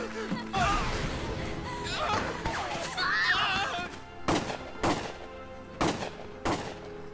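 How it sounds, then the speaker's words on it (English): Sharp gunshots ring out in a few spaced bursts amid sound effects in the video game Valkyria Chronicles, with voices and a laugh in the mix early on. "Gunfire!"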